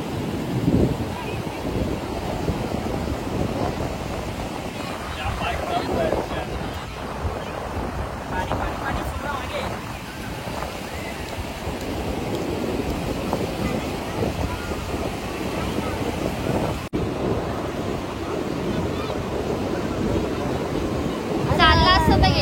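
Sea waves wash onto a beach where children play, producing a steady surf roar with gusty wind noise and people talking over it.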